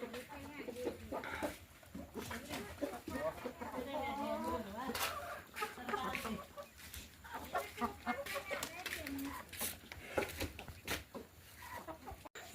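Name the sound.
chickens clucking in a village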